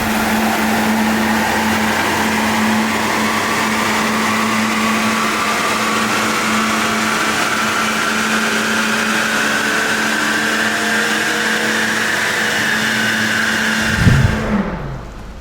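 A Nissan GTR with an Fi Exhaust runs a cycle on a dyno, engine droning loud and steady with rising pitch for about fourteen seconds before cutting off abruptly.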